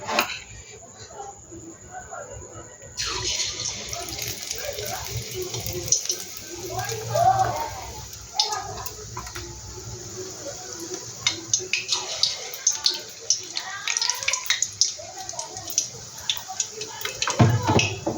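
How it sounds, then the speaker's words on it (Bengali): Drumstick leaf chops deep frying in hot oil give a steady broadband sizzle with crackling bursts, fairly close and continuous, with a few brief voice sounds over it. "আর আওয়াজটা দেখো কত সুন্দর। এই একইভাবে আমি বাকিগুলো ভেজে নেব।"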